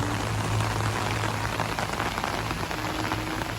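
Light drizzling rain falls steadily on a farm garden where bananas are being planted, a close continuous pattering hiss throughout with no voices.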